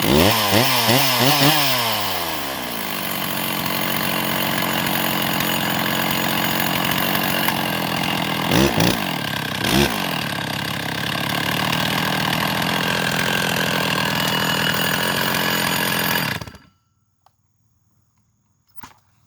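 A Stihl MS660 chainsaw engine with a big bore kit revs up, then runs at a loud, steady drone with a couple of brief surges before cutting off abruptly into near silence.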